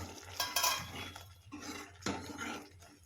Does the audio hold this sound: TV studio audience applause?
no